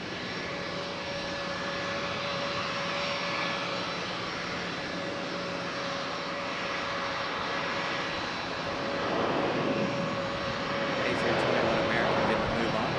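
An airliner taxiing at Charlotte Douglas International Airport, its jet engines giving a steady, distant whine and rumble that swells slightly toward the end, with a person talking over it.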